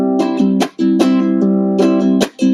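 A ukulele is strummed in a bouncy repeating pattern, sustained chords broken by short muted chops, played close and clear without talking.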